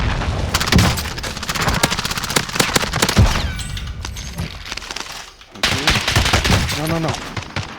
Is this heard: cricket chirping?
no